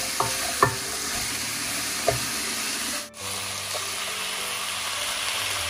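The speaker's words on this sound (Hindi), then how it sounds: "हमने चिकन को भून लिया है" Chicken roasting in a pan for a cabbage soup, with steady sizzling and frying noise, a few sharp scrapes of a stirring spoon, and a brief dip in the middle before the hiss resumes.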